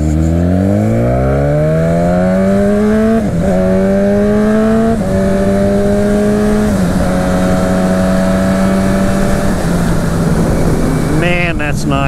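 Muttley, a parts-bin motorcycle, ridden hard: its engine climbs in pitch, drops briefly at each of several gear changes, then pulls again. It stays loud and near with a sustained roar and no clear talking.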